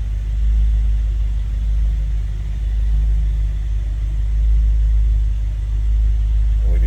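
A 1958 Edsel Pacer convertible engine idling just after a cold start, a loud, steady low rumble close by that holds even throughout without talking.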